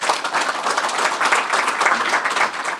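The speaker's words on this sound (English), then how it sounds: "So please join me in, with a round of applause for Dr." A round of applause for a guest speaker at a chamber of commerce community address in Oshkosh, a dense, even burst of many hands clapping together, close and loud for a few seconds.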